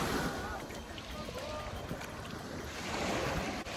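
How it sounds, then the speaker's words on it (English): Water washes against a sandy shore beside a forest near Leamington, a continuous rushing surf with wind buffeting the microphone, loud and close, with a faint voice underneath. "The sound of the water"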